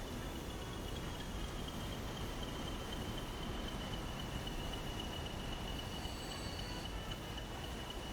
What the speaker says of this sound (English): This is a loaded freight train coming in.